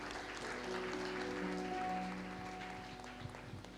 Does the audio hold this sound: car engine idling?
no